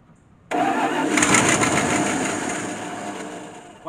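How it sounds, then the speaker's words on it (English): A Dodge D600 truck cranks briefly after a quiet moment, then its engine roars loudly to life and settles into a steady rough idle, with no one speaking. "I crank it over."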